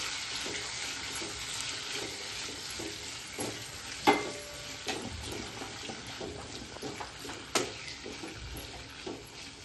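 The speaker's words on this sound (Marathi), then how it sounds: "आणि त्याचं थोडीशी ना अशी परतूया शिमला मिरची." Capsicum (shimla mirch) sautéing in a pan over medium heat, a continuous sizzle with steady stirring scrapes and a couple of louder spatula knocks against the pan, close and clear.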